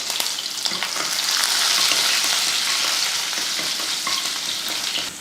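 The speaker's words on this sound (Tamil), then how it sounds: "எண்ணெய் காஞ்சதுமே கொஞ்சம் இஞ்சியும் பூண்டும் தட்டி எடுத்துருக்கேன் அதை சேர்த்துடலாம்" Crushed ginger, garlic and curry leaves sizzling in hot oil for a basmati paruppu sadam, a loud, steady, close hiss of frying with faint stirring clicks throughout and no talk.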